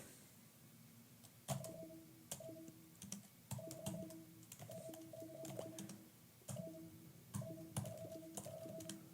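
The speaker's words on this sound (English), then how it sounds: "it was just typing" Steady typing on a computer keyboard, with bursts of clicking keystrokes in uneven rhythm broken by short pauses, close and clear against a quiet room with no talking.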